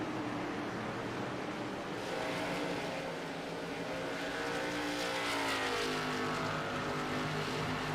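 ARCA stock cars racing at Richmond, several engines droning together at high revs with pitch rising and shifting as they pass, loud and continuous throughout, no talk.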